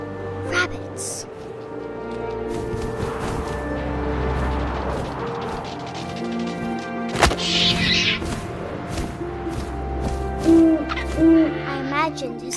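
An owl hoots in the video game What Remains of Edith Finch, loud and near, over wind-like ambience with a sharp thump midway, while a narrator talks across much of the scene.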